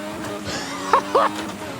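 Formula 1 car in a sim racing game, driven in second gear, engine drone holding steady throughout with two short higher-pitched bursts near the middle.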